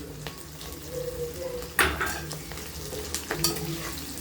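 Cashews frying with onion in a pan, a steady sizzle running throughout, stirred with a utensil that gives a few sharp clinks and scrapes against the metal; no talking.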